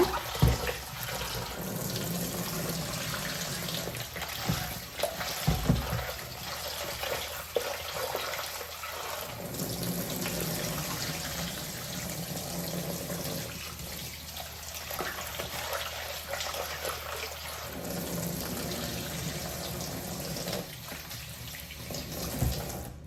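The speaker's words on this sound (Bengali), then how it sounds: "আমি চিংড়ি মাছগুলারে সুন্দর করে ধুইয়া লবণ দিয়ে জিয়া রাখি দিব" Running tap water streams steadily while prawns are washed under it in a home kitchen, a continuous close splashing flow that shifts slightly in texture as the prawns are rinsed, with no talking.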